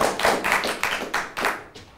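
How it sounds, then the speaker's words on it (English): Round of applause from a panel-show audience, about eight loud, closely spaced claps in a steady rhythm, fading toward the end. "Round of applause for the shares."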